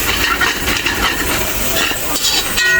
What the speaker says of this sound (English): we're frying up the seasonings here